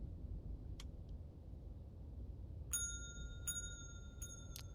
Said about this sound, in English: in order to initiate any of the weirdness that takes place in the Ocean View Motel, you have to ring the bell